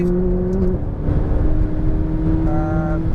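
McLaren 570S sports car engine pulling at full throttle, a loud steady drone with rising harmonic tones near the end, continuous throughout without talk.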